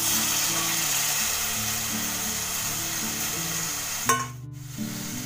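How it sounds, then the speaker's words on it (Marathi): Val beans drop into a pan already loudly sizzling with an onion and coconut masala. A sharp burst of crackle marks their arrival, then the frying briefly dips and picks back up, with a steady low hum underneath. "आता हे बघा हे वाल टाकते मी"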